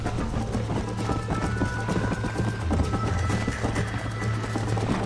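Galloping horse in the Red Dead Redemption video game, its rapid hoofbeats drumming steadily throughout over a constant rumbling game soundtrack, close and fairly loud.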